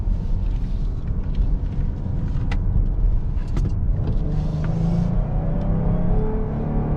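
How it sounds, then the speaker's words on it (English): A Stellantis car engine revs while holding a gear, a steady, loud, close rumble that builds slightly over several seconds, heard from inside the moving vehicle. "God, I love that engine sound."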